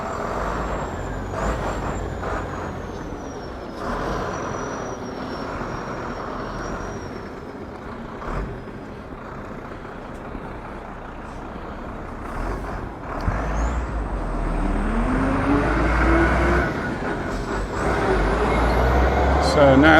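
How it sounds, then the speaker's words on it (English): A lorry turns around in a street between Palmanova and Magaluf, its engine rumbling steadily and building louder toward the end, with hissing air brakes and traffic noise around it. "So now the lorry's made its way out."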